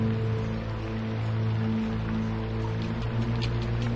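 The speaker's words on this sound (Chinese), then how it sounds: "下雨了。" Rain falling outdoors in a martial-arts drama scene, a steady, dense hiss that holds evenly throughout under a low, constant hum, with no voices.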